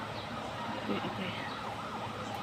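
A faint ambulance siren wails from a distance, its rising and falling tone partly buried under background noise and low voices.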